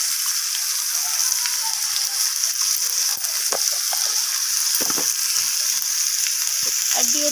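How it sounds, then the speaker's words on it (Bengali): Drumstick pieces and potatoes fry in hot oil with turmeric, chilli and cumin, a constant loud sizzle broken by scraping stirs and light clinks of a spatula against the pan. "সমস্ত কিছু মশলা আমি ডাঁটা আর আলুর সাথে এইভাবে নাড়াচাড়া করে একটু কষিয়ে নিচ্ছি"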